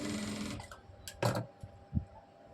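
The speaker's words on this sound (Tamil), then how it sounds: "ஸோ இந்த மாதிரி நம்ம மடித்து வந்து இந்த மாதிரி நம்ம 1/4 இன்ச்சில் தையல் போட்டு எடுத்துக்க போகிறோம்" A sewing machine stitches a blouse patti, running in a steady, busy whir for about half a second before stopping, followed by a few soft handling knocks and taps.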